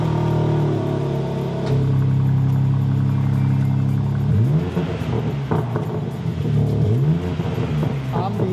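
A BMW M3 Competition from 2022 with 510 hp starts up and revs, its engine note swelling and falling in several loud rises close by, with continuous mechanical rumble throughout.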